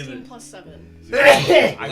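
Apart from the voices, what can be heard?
sneeze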